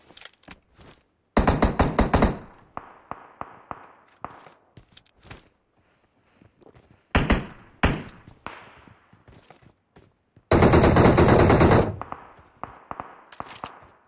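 Bursts of video game gunfire crack out in several loud rapid volleys, broken up by single sharp shots and quieter footsteps and thuds between them.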